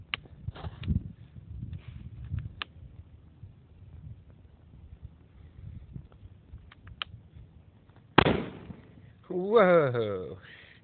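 A small black powder cannon fires once near the end with a sharp, loud report that decays quickly. Quiet handling noises come before it, and an excited voice speaks right after.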